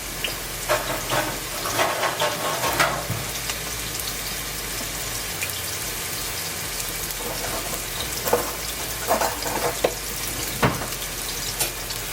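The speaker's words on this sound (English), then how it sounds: "You don't want to fry them too crisp." Food fries in a pan with a dense, steady crackling sizzle throughout, close and fairly loud, with occasional sharper pops and stirring clatters.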